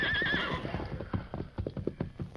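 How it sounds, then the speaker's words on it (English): A horse whinnies loudly at the start, then hooves clip-clop in a quickening, close rhythm, like a bronco being brought up and ridden off in a Western scene. "And somebody bring my bronc."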